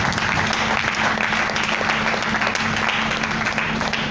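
A church congregation clapping together in steady, dense applause that fills the room evenly, fairly loud and continuous throughout.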